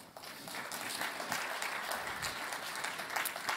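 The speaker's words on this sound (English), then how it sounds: "Another round of applause for the winners" Sustained audience applause for award winners at a manufacturing innovation event, a dense, steady wash of many hands clapping at moderate volume throughout, with no voices standing out.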